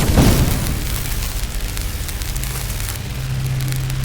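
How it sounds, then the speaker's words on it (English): A designed explosion sound effect for sound design work: a loud, heavy boom at the start that decays into a long rumbling, crackling tail with a low sustained hum near the end, heard alone. "I want to hear what this explosion sounds like"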